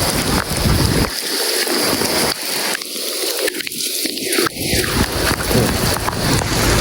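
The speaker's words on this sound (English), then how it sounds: "the rain's falling down" Rain falls as a continuous loud hiss, accompanied by low rumbling swells and gusty noise that rise and fade across the stretch.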